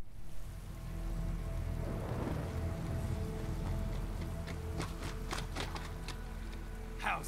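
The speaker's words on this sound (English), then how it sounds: "we're fighting in the rain" Steady rain hisses and patters in Metal Gear Rising: Revengeance, a continuous even wash with a low rumble under it and sharper splashy hits toward the end.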